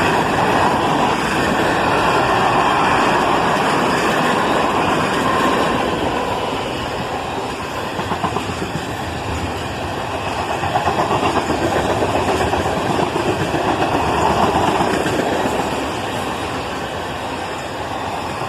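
A long freight manifest train led by a pair of ES-40DC locomotives rolls past on the Toledo sub, carrying refrigerator cars, tankers and steel coils; a loud, steady rumble of engines and wheels holds for the whole stretch, with no talk.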